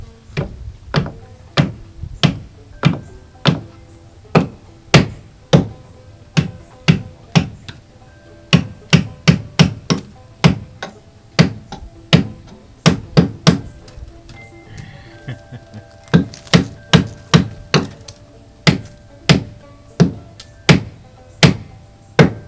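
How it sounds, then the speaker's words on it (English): Wooden wedges are hammered in under a shed door, a long steady series of sharp, close knocks roughly every half second with a few brief pauses. "I'm gonna hammer it in a little bit more."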